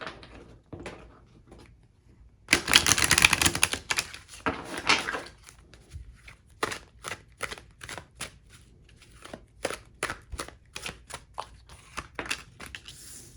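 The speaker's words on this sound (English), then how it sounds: "I've already pre-shuffled the cards, but I just wanted to like shuffle them up a little bit on camera" A deck of tarot cards being shuffled up close, with a dense burst of riffling from about 2.5 to 5 seconds, then a run of sharp, separate card slaps and flicks that carry on to the end, with no talking.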